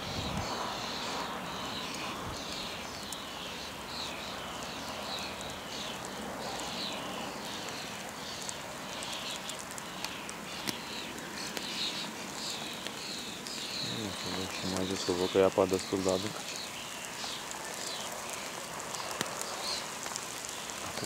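Rain falling at a fishing pond, a steady faint patter of drops under someone speaking, with a brief tonal sound partway through.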